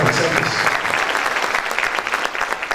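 Audience applause for the grandparents at a talk on parenting and raising leaders at home, a dense, steady clapping that fills the whole stretch with scattered sharper claps standing out.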